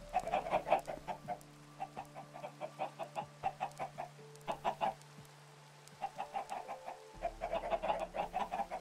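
Chicken clucking in the Minecraft video game, a rapid series of short clucks in bursts that repeat throughout, steady and fairly close over a low background hum.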